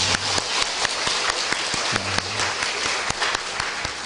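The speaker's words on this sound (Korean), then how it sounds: "하나님께 영광의 박수를 올려드리겠습니다" A church congregation breaks into applause, a dense, steady patter of many hands clapping at moderate loudness throughout, with a few sharper individual claps standing out.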